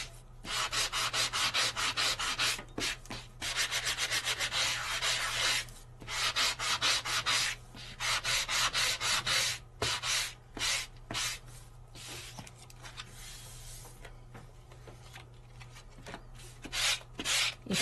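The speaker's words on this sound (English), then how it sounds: "How about we just sand the edge of the paper?" Rough, rhythmic sanding strokes rasp back and forth along the edge of paper in bursts with short pauses, close and fairly loud, with no talking.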